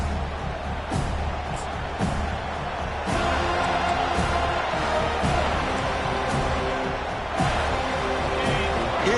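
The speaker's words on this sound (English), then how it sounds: "this crowd is fired up. Listen to this noise here." A large stadium crowd roars steadily throughout in the football video game NCAA '25, Miami vs. Florida State, a dense wall of cheering with occasional swells.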